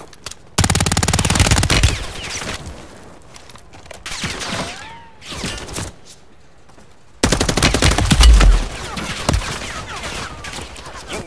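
Machine gun fire in Call of Duty: Warzone on Ashika Island, loud sustained automatic bursts at the start and again later, with other game sounds and a radio-style voice in the gaps.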